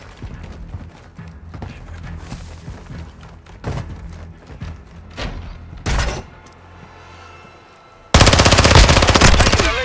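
Machine gun fire in the Call of Duty: Modern Warfare II video game rattles in scattered bursts with thuds, then erupts into a loud, sustained burst near the end.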